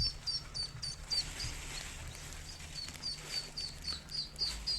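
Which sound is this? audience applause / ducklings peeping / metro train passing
ducklings peeping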